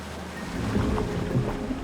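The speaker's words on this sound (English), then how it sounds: "In the pitch-black belly of the mountain, a waterfall." Waterfall pouring deep inside a pitch-black mountain cave: a steady, dense low rumble and rush of falling water that fills the space evenly throughout, with no voices.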